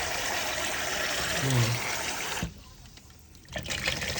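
Water runs steadily from a tap while rice is rinsed, a bright trickling flow that stops briefly midway and then resumes, close by and with no one speaking over it.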